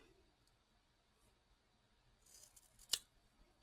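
Scissors cut an item in half with one sharp, close snip near the end. A little faint rustling comes just before it in an otherwise quiet room.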